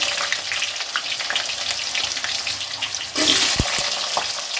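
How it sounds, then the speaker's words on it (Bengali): Potato fries in oil tempered with bay leaf, a steady close sizzle that swells sharply louder partway through as more is added to the hot pan. "এবার আমি ফোড়নে দেব তেজপাতা গোটা চিড়ে আলুটাকে ভালো করে ভেজে নেব"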